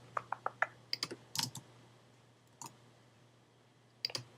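Typing HTML link tags on a computer keyboard gives a quick burst of close, crisp key clicks, a short pause, another cluster of taps, and a couple of isolated presses in a quiet room.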